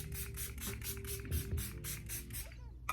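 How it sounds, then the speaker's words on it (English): Hangover RX setting spray misted onto a face during a makeup session, a series of soft, airy bursts in quick steady rhythm, close and fairly quiet, stopping near the end. "I kind of want to reset my face with the Hangover RX spray"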